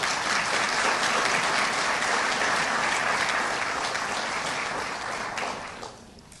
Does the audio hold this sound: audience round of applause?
yes